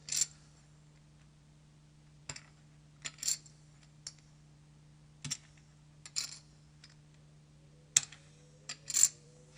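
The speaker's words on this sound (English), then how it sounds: "You do a slight tilt. The chips start to intermix, and you lift your fingers up." Poker chips shuffled by hand, a series of quiet, sharp clicking clatters spaced a second or two apart over a steady low hum, close and faint with no talking.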